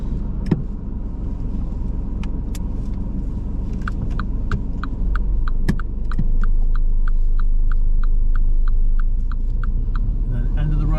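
A car drives steadily along a road during a mock driving test in Swindon, its low engine rumble and road noise continuous throughout, with a regular ticking indicator clicking through the middle and later part.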